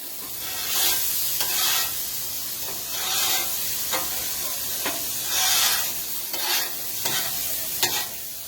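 Mushrooms and onions sizzle loudly on a hot Blackstone griddle beside steak, a close continuous hiss broken by repeated bursts of spatula scraping and stirring.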